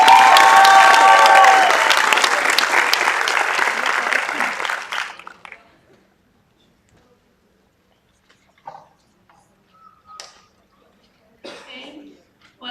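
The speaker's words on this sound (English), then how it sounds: "Just give them a bigger applause" Loud, dense applause with some cheering fills a general assembly hall for the board on stage, then dies away into near silence broken by a few faint, scattered noises.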